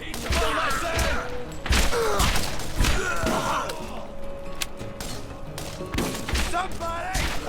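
Rapid bursts of gunfire and thuds from the Borderlands video game in the town of Fyrestone, loud and dense at first and then thinning out, with in-game character voices shouting over the shots.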